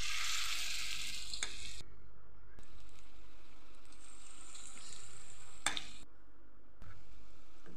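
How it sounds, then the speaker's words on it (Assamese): Small spoon-dropped fritters frying in hot oil in a kadai over a medium flame, a bright continuous sizzle that swells and drops as pieces go in, close and alone. "তেল গৰম হৈছে, কেৰাহী গৰম হৈছে, এটা এটাকৈ দি দিলোঁ।"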